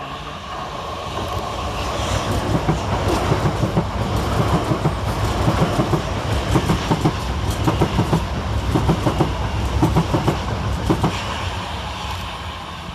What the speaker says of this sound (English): Quickly on his heels is 387222 and 387211, working 1 Whiskey 48 for Gatwick Express from London Victoria to Brighton.